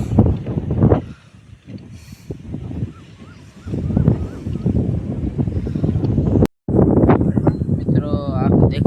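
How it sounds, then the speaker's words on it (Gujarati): Wind buffets the microphone on a breezy outing at Porbandar, a rough, rumbling gusty roar that rises and falls throughout, with people talking under it and a brief dropout near the end. "પવન મસ્ત મજાનો"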